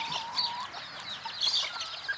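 Bantam chickens bred for cross-breeding stock cluck in a run, a steady stream of overlapping short clucks and bright chatter at close to middle distance, with no one speaking.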